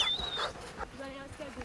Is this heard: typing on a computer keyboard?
no